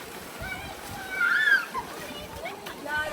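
Spring water splashing and sloshing in the Ein Prat gorge of the Judean Desert, a steady mid-level wash with brief brighter splashes, children's voices and chatter mixed in around it.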